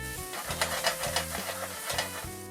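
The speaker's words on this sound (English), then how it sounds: "Saute until the garlic has a chance to release some flavor." Garlic and pearl onions sautéing in oil or butter in a hot pan give a steady sizzle, broken by repeated stirring scrapes in a rough rhythm, close and fairly quiet.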